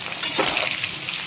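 Cauliflower florets deep-frying in oil for a Bengali cauliflower roast give off a steady, dense sizzle with a couple of brief louder crackles and stirring scrapes.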